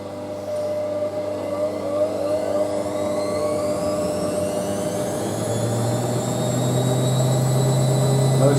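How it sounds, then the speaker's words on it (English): Hotpoint Aquarius WM63 washing machine draining with heavy vibration, a loud steady droning hum and rattle that builds slightly toward the end, with no talk. "Most of the noise comes from the fact the machine vibrates like crazy."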